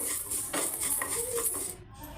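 A metal spoon scrapes and clinks against a pan while fenugreek seeds are stirred for pickle making, a steady run of close, bright scraping strokes with no talk over it.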